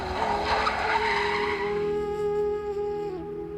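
A car skids to a stop with a loud, sustained tire squeal that holds steady, then drops away as it comes to rest.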